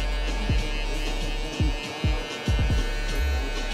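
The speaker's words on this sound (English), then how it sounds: "Open up that lever a little bit. And now we're towards the back, and we're gonna do the same exact thing. Clipper closed." Electric hair clippers hum steadily through a fade haircut, close and constant. Short sweeping strokes and taps against the hair break up the buzz every so often.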